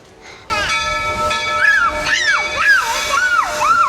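Walt Disney World Railroad steam train at a Magic Kingdom station, with loud hissing steam and a repeated rising-falling whistle sounding several times in a row close by.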